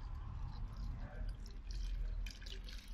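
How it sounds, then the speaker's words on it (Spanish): Water poured from a small jug into stone paste for making garden pots, a wet, dripping pour with soft liquid splashes running continuously, nearby and moderately quiet. "tengo la jarrita y vamos a echar el agüita"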